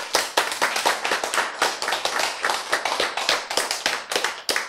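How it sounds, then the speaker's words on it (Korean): A congregation claps during a sermon at a Korean church lecture, loud, close, rapid clapping with a fast, slightly uneven rhythm that carries on throughout. "박수!"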